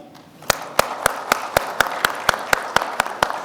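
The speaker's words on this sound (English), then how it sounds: "We should clap for Nari Shakti." An audience claps for women's empowerment at a workforce conference, a steady run of sharp, evenly spaced claps over a soft crowd wash, moderately loud and without talk.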